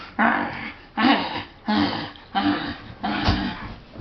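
A small dog whimpers and yips in five short, close bursts spaced about a second apart, each cry rising and then fading.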